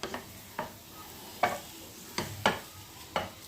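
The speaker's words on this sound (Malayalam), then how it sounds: "എല്ലാം ഒന്ന് നല്ലപോലെ മിക്സ് ചെയ്തെടുക്കും." A spoon works through a thick mixture of ragi, banana, jaggery and coconut in a pan, making about seven distinct, evenly spaced scraping strokes over a low sizzle. Close and clear, with no talking.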